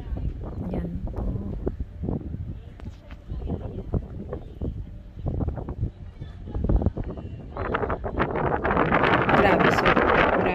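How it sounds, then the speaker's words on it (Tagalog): Strong gusty wind buffets a microphone on the Mokpo skywalk, a rumbling roar that rises into a louder, steadier blast toward the end, while thumping footsteps sound nearby. "Sobrang lakas na hangin."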